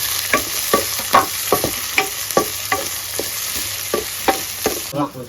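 Ingredients for a home-cooked fish curry sauté in a pan: a continuous sizzle broken by a quick run of rhythmic scraping stirs, close and fairly loud, with no one talking.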